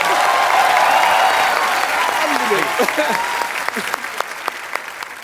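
Studio audience applause on a Hindi comedy talk show, a dense wash of clapping that swells loud and then thins into scattered claps by the end, with a few whoops and voices mixed in.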